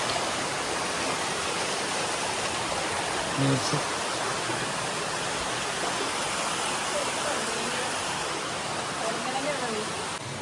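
A stream flows through a forest in Rajasthan, a steady, unbroken rushing hiss of water heard close and evenly loud throughout.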